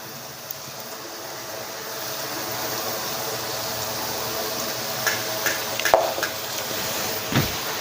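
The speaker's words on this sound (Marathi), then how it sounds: "एक एक मोदक असं सोडून तळून घ्यायचं आहे कमी गॅसवर तळायचं" Modak dumplings deep-fry in hot oil over low heat, giving a steady, soft hiss of bubbling with a few brief clinks and taps near the end, close by and with no talk.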